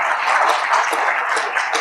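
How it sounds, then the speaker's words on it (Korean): An audience at a founding general meeting of a political platform gives a brief burst of dense, steady applause to welcome a lawmaker to the stage. "박수로 맞이해주시죠"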